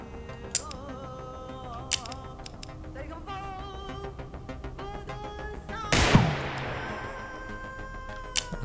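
Handgun shots in the video game Receiver 2, fired at a turret from a distance: one loud sharp report with a ringing decay, plus brief clicks and mechanical handling sounds before and after.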